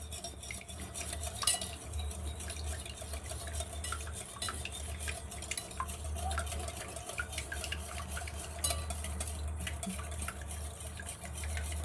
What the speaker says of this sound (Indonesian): Kita kocok hingga tercampur rata ya.